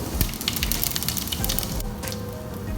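Fenugreek, cumin and fennel seeds sizzle steadily in hot oil for a sardine curry, a close, continuous crackling hiss with scattered sharp pops throughout.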